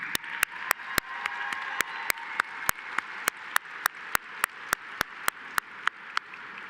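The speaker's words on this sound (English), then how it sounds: "Let's have a round of applause for the friends and family." An audience at a law school commencement ceremony applauds graduates' friends and family. The crowd's clapping forms a steady bed, while one pair of hands claps sharply and evenly close by.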